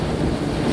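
Rough, steady blustery noise of wind driving rain against the microphone, loud and continuous with no pauses.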